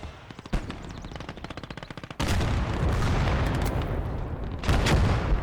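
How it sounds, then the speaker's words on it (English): Machine guns rattle in the video game Gates of Hell, a rapid close burst of shots giving way to a dense roar of overlapping gunfire and booming artillery, loud and continuous throughout. "machine guns all over the middle there"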